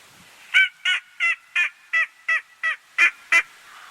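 A wild turkey tom gobbles nine times in a steady rhythm during a spring hunt, each gobble loud and close after a hunter's chirping call, with no talk over it.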